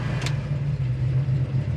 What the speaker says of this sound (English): sitting here at the stop sign, your idles, it's idling perfect, even with the air on.